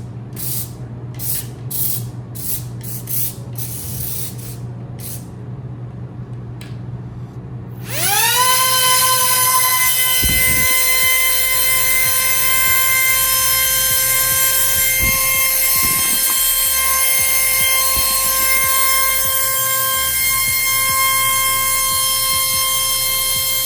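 A small RC wall-climbing car's motor starts with a sudden loud high-pitched whine after some clicking and handling noises, then runs steadily at a constant pitch, close and loud.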